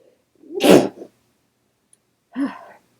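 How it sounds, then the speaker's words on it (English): A single sharp sneeze bursts out close up, followed after a pause by a short, quieter breathy vocal sound. "I'm going to sneeze."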